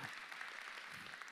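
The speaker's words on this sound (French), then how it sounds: "vous pouvez applaudir maintenant" A church congregation claps at a Sunday service, a faint continuous patter of many hands heard at a distance for just over a second.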